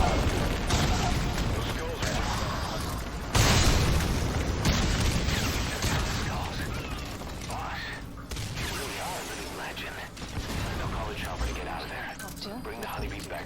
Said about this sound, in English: Just immediately start lobbing grenades at the skulls here.